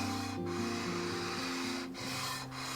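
Sandpaper rubbing along a wooden guitar fretboard with a large aluminium inlay makes a faint, steady rasp, heard close up with a few brief swells in the scratching strokes.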